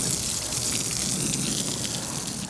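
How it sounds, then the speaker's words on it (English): A garden hose sprays water onto a car windshield in a steady, close, rushing hiss that lasts the whole time. "I'm gonna go ahead and grab the water hose, hit the windshield here, and see what the water does on there"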